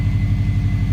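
Subaru WRX EJ20 engine idling steadily at close range, a loud, even low-pitched burble with regular pulses and no talk.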